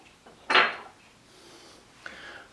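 A metal sheet pan handled in a home kitchen, giving one clear clanking knock followed by a quieter scrape and a faint second clack, with no talking.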